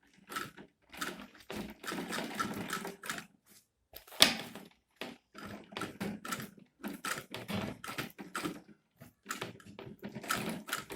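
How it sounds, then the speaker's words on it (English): A sewing machine stitching a handbag runs in short whirring bursts separated by brief pauses, close and fairly loud, with a mechanical rattling rhythm. "Then I'll sew the other side as well."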